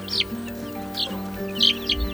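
A few high, thin chirps from a young chick, short and scattered, heard close over a low background hum.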